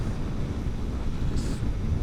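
Heavy wind buffets the microphone as a Honda CBR300R motorcycle rides on the highway, a loud, constant low roar throughout with a faint brief tone near the end.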